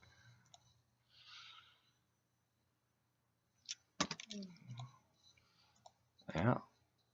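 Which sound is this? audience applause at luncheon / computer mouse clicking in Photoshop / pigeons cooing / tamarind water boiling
computer mouse clicking in Photoshop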